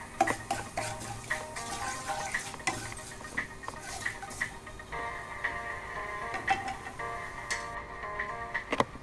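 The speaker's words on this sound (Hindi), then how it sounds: "ऑयल हमारा गर्म हो चुका है। अब मैं इसमें जीरा डालूंगी।" Cumin and white sesame seeds hit hot oil in a pan, making a faint, steady crackling sizzle with light clinks and scraping of a utensil stirring in the background.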